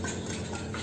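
A brief spoon scrapes and swirls through wet dog food mixed with water and Prime Matrix for a Belgian Malinois, a steady close mushy stirring noise.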